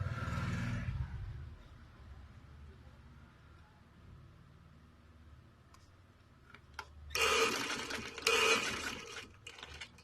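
A sewing machine stitches a kurta for a one-year-old boy. After a loud opening rumble and a quiet stretch, it runs in two rapid mechanical bursts near the end, with a few faint ticks before them.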